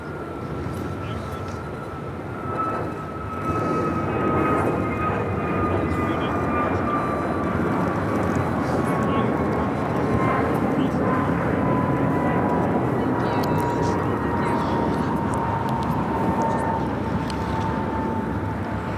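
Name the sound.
Asiana Airbus A380 taking off at LAX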